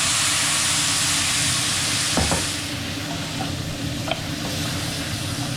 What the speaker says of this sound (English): Now we want to deglaze with either white wine, dry vermouth, or sake.